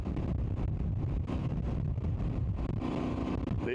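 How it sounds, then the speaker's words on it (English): Voge DS800X Rally motorcycle rolling on in third gear, its airbox giving a deep, resonant intake roar that stays loud and steady throughout, mixed with wind rush. "Lovely resonant noise from that airbox."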